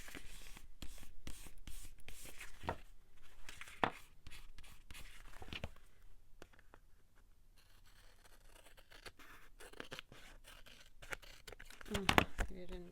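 Paper is cut freehand with scissors for a ticket tag book, giving a string of sharp snips and scraping strokes up close, with a quieter pause midway and a louder flurry near the end.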